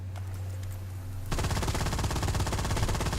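Assault rifle fire in the video game Firefall: after a quiet humming stretch, sustained rapid automatic shots erupt suddenly and loudly, pounding on without a break to the end.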